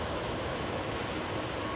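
Air France airliner rolling on the runway at Manchester Airport after arriving from Paris Charles de Gaulle, a steady broadband engine rumble and roar holding level throughout, fairly close and continuous with no talk.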